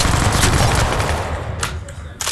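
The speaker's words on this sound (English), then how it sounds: "Sir, if you want to use a machine gun, watch this." A machine gun firing in a VR combat game, a dense rattling burst up front that thins into a few separate sharp shots near the end, loud and close.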